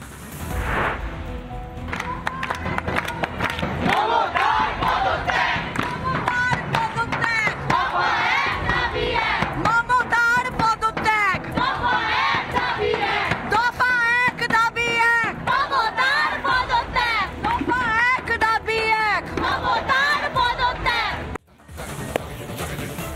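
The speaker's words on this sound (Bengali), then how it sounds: "একবার শুনবো কারা কারা এই স্লোগান দিচ্ছেন। প্রথমেই দেখুন আরজি করে ছাত্ররা, তারা এই স্লোগান দিচ্ছেন।" Students at RG Kar in Kolkata chant a protest slogan together, a loud, sustained mass of voices rising in rhythmic unison for about twenty seconds before a brief drop near the end.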